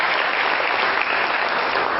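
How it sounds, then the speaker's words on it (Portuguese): Dense, loud applause from a church audience honoring Padre Pio, a steady wash of many hands clapping at once with no gaps, filling the whole stretch alone. "Uma salva de palmas para o Padre Pio, uma salva de palmas muito especial"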